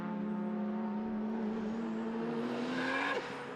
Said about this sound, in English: You can hear through our microphones out on track the turbo whistle of that car.